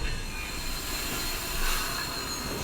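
A train from the Gangs of Wasseypur film trailer rolls past with a dense, continuous rumble, rattle and high wheel squeal that swells briefly in the middle, with no voices.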